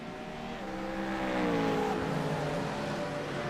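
Several GT3 race cars in a sim racing game build engine pitch together at a restart, a dense layered whine rising and then holding, steady and moderately loud with no voices.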